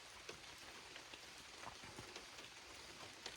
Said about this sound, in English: just the sound of the rain in the woods